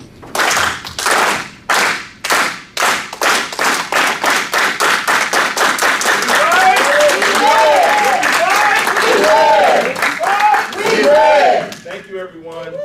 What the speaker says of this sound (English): in the tradition of labor, we always go out with a solidarity clap